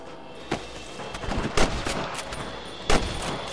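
Gunfire in the Red Dead Redemption video game, with several sharp shots cracking out loud and close over a busy, noisy game soundscape, the heaviest bursts spaced irregularly about a second or more apart.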